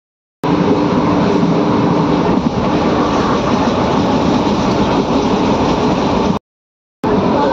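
Train pulling out of a station, a loud, continuous rumble of rail cars and wheels close by, broken by a brief gap near the end before the noise resumes.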